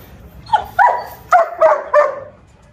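A dog barks five times, close and fairly loud, in short yelping bursts with brief pauses between them.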